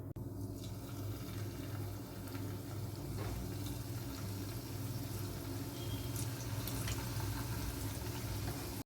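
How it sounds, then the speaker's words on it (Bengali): Thekua, a Bihari sweet, frying in moderately hot oil over a medium-low flame: a continuous, even bubbling sizzle, soft and steady, with no voices. "তেল গরম করে নিয়ে এবার আমি ঠেকুয়াগুলো ভেজে তুলব"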